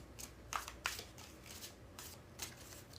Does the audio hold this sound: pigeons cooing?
no